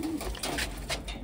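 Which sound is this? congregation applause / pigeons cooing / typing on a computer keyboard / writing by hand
pigeons cooing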